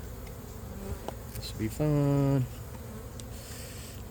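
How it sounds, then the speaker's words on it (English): Honey bees buzz around a beehive inside a gourd: a loud, close, steady buzz lasts just over half a second amid faint background activity, with a brief spoken remark. "I just killed a bee."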